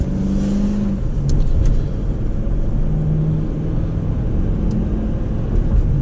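A 2005 Ford F-150 king cab with a 5.4 Triton 3V V8 runs smoothly during a drive, giving a continuous low engine drone and road rumble with mild swells. The steady sound is heard from inside the cab, with no speech.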